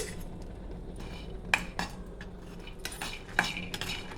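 Jamun seeds roasting dry in a pan on a stove, stirred with a utensil; quiet, steady scraping with two sharp metallic clinks against the pan, no talking.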